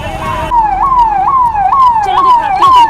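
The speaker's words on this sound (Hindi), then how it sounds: "आग ऑलमोस्ट बुझाने के लिए फायर ब्रिगेड आ गई है।" A fire brigade siren arrives at a car fire on a road home from a fair, wailing loud and close in a repeated rising-and-falling pattern over traffic noise.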